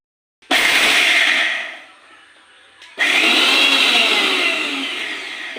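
An electric mixer-grinder whirs loudly in two short bursts, crushing chilies, carrot, onion and turmeric, with a brief pause of lower motor hum between the runs.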